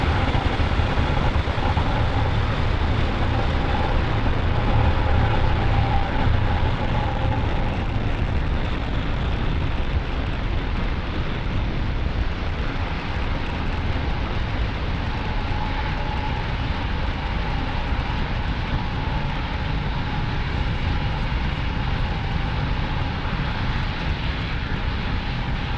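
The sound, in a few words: SpaceX Falcon 9 rocket liftoff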